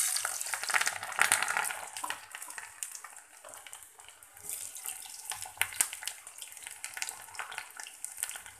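Garlic frying in a pan for a curry-leaf gravy, giving a steady, fairly quiet sizzle with crackling bursts and occasional stirring scrapes throughout; no one speaks.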